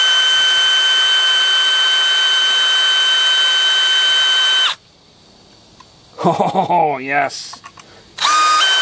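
A power drill bores into a part of a Jonsered 2071 chainsaw with a loud, steady high whine that cuts off abruptly, followed by a brief spoken exclamation, and then the drill starts up again at the end.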